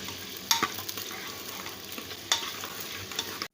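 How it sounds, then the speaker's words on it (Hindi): Sliced onions hiss and crackle in hot oil for beef nihari, a steady broadband sizzle with sharper pops and spatters near the start and middle, close and continuous, with no voices. "ऑयल गर्म हो चुका है, अब हम इसके अंदर प्याज शामिल कर रहे हैं।"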